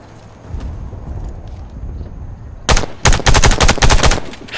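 Loud bursts of automatic gunfire at targets in the Warface shooter game, several rapid volleys crowding the last two seconds after a quiet stretch of low ambient hum.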